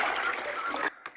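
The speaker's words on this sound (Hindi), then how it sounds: "इस टप से इसमें डालता हूँ पानी" Water poured by hand from a filled household tub into another container, a close, steady splashing stream that stops abruptly near the end, followed by a couple of brief trickles.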